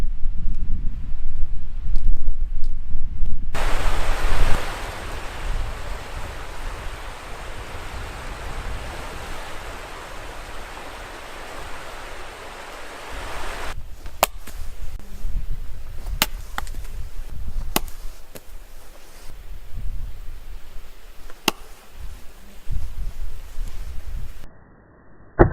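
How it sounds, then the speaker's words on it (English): Strong south wind gusting across a remote beach on a solo paddling loop, a steady loud roar of rushing air with noise building and easing, broken by a few sharp crackles or clicks, with no voices. "It's after 8 o'clock and the wind is still gusting."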